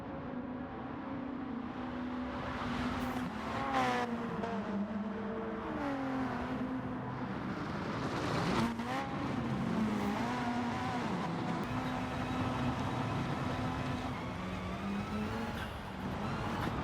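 Several race cars in Gran Turismo Sport power through a hairpin at the Rally Ranch circuit, engines revving and shifting pitch as they brake and accelerate out of the corner, loud and close, with no talking.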